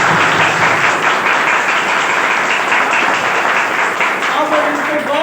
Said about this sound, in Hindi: ताली वैसा लगना चाहिए इनका लिए जैसे कि अगला महीना से आपका हो